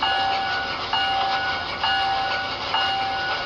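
A brass model New Haven I-4 locomotive's bell rings in a steady repeating pattern, four evenly spaced clangs with ringing tones sustained between strikes, loud and close.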